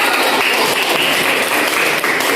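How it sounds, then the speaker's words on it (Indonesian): A classroom gives a round of applause to a student group, with steady, dense clapping filling the whole moment at close range and no speech over it. "Ayo tepuk tangan ke kelompok 1."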